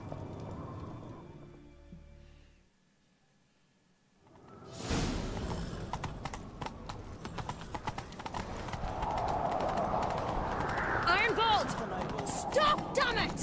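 Horse hooves gallop in a video game in a rapid clip-clop rhythm after a short quiet stretch, with whooshing movement and voices talking over the action.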